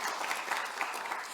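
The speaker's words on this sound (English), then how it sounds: "A round of applause for yourself." Scholars at a welcoming conference clap for themselves, a brief burst of steady crowd applause filling the room, moderately loud with no voices over it.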